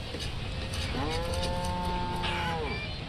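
Cattle in the village-building game Banished let out a single drawn-out moo over a steady ambient backdrop, mid-distance and moderately loud.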